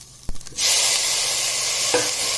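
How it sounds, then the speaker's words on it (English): Cut tomatoes hit hot oil in a pan for bottle gourd curry, setting off a sudden loud, steady hiss of sizzling after a brief clatter, close up and with no talking. "Now we will add cut tomatoes to it."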